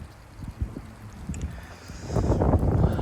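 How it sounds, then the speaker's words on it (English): Gusty wind of around 30 mph in Frisco, Texas buffets the microphone, faint and fluttering at first, then swelling into a louder, rougher roar near the end. "Today we're getting some 30-mile-per-hour winds again in Frisco."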